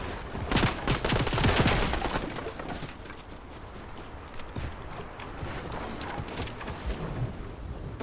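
Video game gunfire: rapid bursts of shots crackling through a dense, noisy battle mix, fairly loud and continuous with uneven peaks, with no clear talking.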